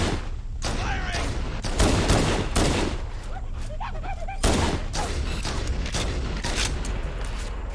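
Gunfire in the video game Halo: Combat Evolved, aimed at a gunship, rips out in loud, close bursts of rapid shots, with heavy blasts and short gaps among the battle noise.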